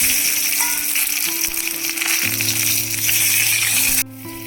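Tomatoes frying in hot oil with five-spice seeds in a village kitchen, a loud continuous sizzle with crackling, dropping suddenly in level just before the end.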